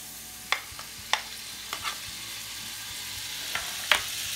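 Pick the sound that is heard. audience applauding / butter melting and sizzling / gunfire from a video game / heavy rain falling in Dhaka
butter melting and sizzling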